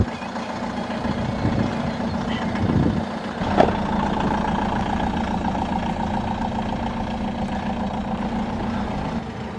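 A motorhome engine running as it pulls away from a French aire, a steady loud low rumble with a brief clunk partway through and no talking.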